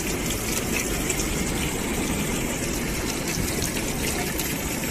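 Hot spring water at 51 degrees pours steadily from a public fountain in Szeged, Hungary, a loud continuous gushing splash close by with no pauses.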